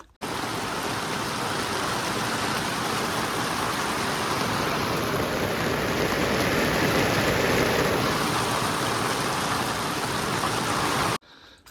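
Heavy rain pours steadily on a muddy mountain trek to Rudranath, a dense unbroken hiss that holds at the same level for about eleven seconds and then stops abruptly.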